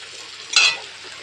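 Spices and potato fry in a pan for Bengali egg curry. A soft constant sizzle runs under one short, close scrape of a spoon stirring through the mixture.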